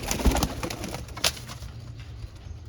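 Pigeons at a breeder's loft coo softly and repeatedly, close by, with faint rustling and a brief sharp noise partway through.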